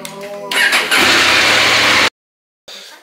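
A KTM 790/890 Adventure motorcycle engine on a lithium battery cranks over, then catches and roars to a loud, steady run before cutting out abruptly; a short rumble returns after a silent gap.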